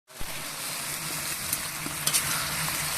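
Potatoes and meat fry in hot oil while being stirred, giving a steady, close sizzle with occasional scraping clicks throughout.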